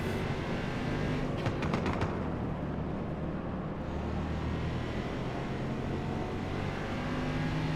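A super sedan race car engine in Forza Motorsport revs and roars steadily, a loud, sustained drone with rising and falling pitch and a brief higher whine early on, with no voices.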